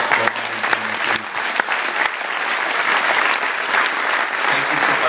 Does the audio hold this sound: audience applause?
yes